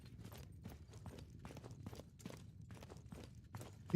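Horse hooves clip-clop at a walking pace in a video game with an Old World mod, faint and moderately distant, in an uneven steady rhythm with no voices over it.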